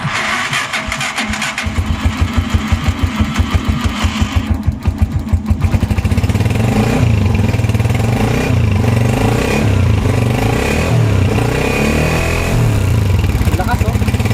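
A Honda TMX 125 Alpha motorcycle engine fitted with a new high-performance ignition coil cranks, then catches and settles into a loud, close, steady running note with some revving, while someone talks over it.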